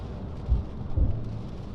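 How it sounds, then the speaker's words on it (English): Steady heavy rain hissing on a car while driving, with low rumbling bursts underneath, dense and continuous, no voices. "I mean, the rain is really coming down now."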